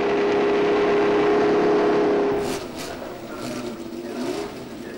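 A Matra V12 engine in a Ligier Formula 1 car at Monza during 1978 practice, heard onboard as a loud, steady high-pitched drone for about two and a half seconds, then dropping to a quieter, rougher rumble with shifting pitch.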